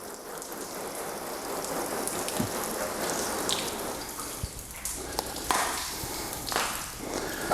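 Water sprayed over a car while rinsing it down before drying, a steady close hiss of spray and splashing with a few sharp drips and taps, heard alone.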